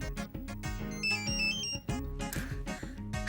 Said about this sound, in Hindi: बजा बजा फोन बजा।